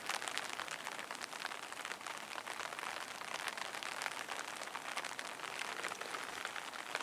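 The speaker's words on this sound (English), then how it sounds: "Ash, it's raining, buddy." Steady rain falls outdoors around a tree, a dense, even hiss of drops pattering on surfaces that continues unbroken and fairly soft throughout, with no voices.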